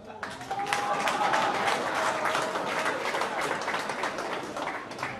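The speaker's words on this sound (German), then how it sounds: "Applaus für die Leute." A concert audience applauding steadily throughout, with a voice speaking over the clapping.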